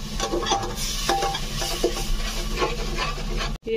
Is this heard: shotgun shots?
no